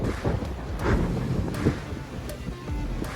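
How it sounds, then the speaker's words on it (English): Steady wind roars across the microphone aboard a sailing yacht on the Pacific, with short gusts swelling and easing over a low rumble of water around the hull. "This is Ian's birthday sail."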